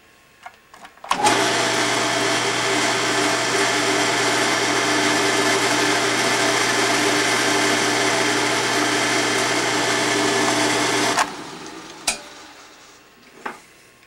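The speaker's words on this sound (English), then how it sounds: "Now we're spot drilling valve chest mounting hole number 1." A drill spot-drills a valve chest mounting hole for a model 1880s steam engine, a loud, steady machine whine with a low hum that runs for about ten seconds before stopping, followed by a few small clicks.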